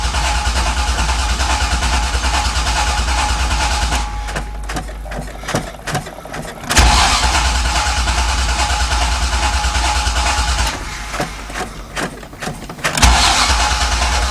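A V8 engine fitted in a Porsche 911 cranks repeatedly with a loud, steady starter whir while the gas is pumped, briefly catching and stumbling between long cranking bursts, close by.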